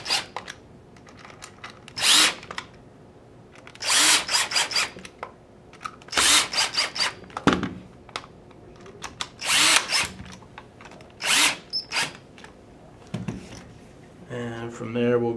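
A power drill tightening screws during reassembly of a Gryphon, with loud repeated whirring bursts separated by pauses, handling clicks and rubbing between them, and a ratcheting rattle at the end.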